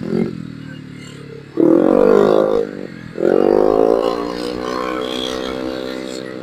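Suzuki GSX R150 motorcycle exhaust revving hard in two loud surges, the engine note climbing then holding, after a quieter running stretch.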